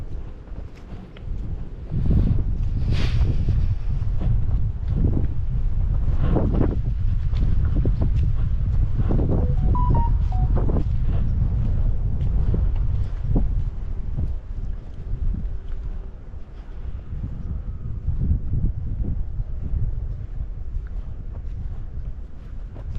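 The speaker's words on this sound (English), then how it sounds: "Kind of windy, but" Outdoor wind at a botanical garden on a windy day, strong buffeting gusts roaring against the microphone almost continuously, loud and low, with brief lulls and faint background sounds.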